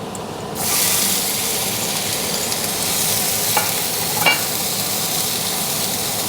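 Tofu and potato pieces frying in melted oil, a steady loud sizzle starting after a brief quiet moment, with a couple of faint clicks of stirring near the end.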